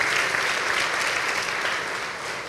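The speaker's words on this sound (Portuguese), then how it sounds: "dê uma forte salva de palmas" A church gathering breaks into loud applause, a dense and steady roar of many hands clapping together that fades slightly near the end.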